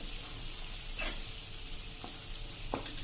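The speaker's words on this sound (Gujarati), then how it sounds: "એને પણ આપણે તેલમાં 1 મિનિટ જેવું આપણે રોસ્ટ કરી લેશું." Sesame powder roasting in oil in a pan over a low flame gives a faint, steady sizzle with a few light stirring scrapes, close and quiet, with no voices.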